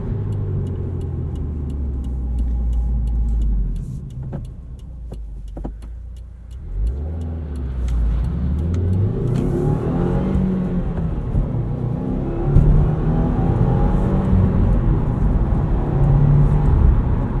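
A white 2020 Subaru WRX Premium with a 6-speed manual pulls away on the road, its engine rumble and rising revs heard from inside the cabin, dipping briefly around a gear change before climbing steadily again, with no talk.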